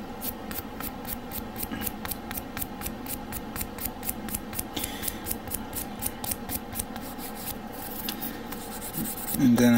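Glued plastic Gundam model kit parts being sanded by hand with fine-grit sandpaper, a steady run of short, close scratchy strokes repeating in quick rhythm for several seconds, with no talking.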